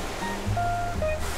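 Broadband sea waves washing at a Phuket beach, a steady surf wash with a few faint tonal sounds layered over it, heard close and moderately loud with no talking.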